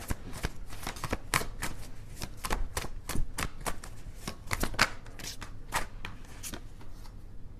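Tarot cards being shuffled by hand, a fast series of crisp riffling bursts with short pauses between them, close and clear with no talking.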